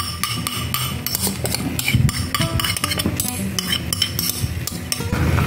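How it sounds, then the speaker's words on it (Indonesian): Rice, sauce and an undercooked egg are stirred slowly in a pan, with a metal utensil scraping and clinking against it in an uneven rhythm, up close and loud. "Terus sekarang ini akan saya aduk-aduk pelan ya."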